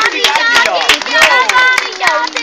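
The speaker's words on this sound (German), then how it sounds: "Jetzt gibt es einen kräftigen Applaus für alle Kinder." Children in an Advent event audience clap in loose, scattered bursts while excited young voices shout and chatter loudly over the clapping.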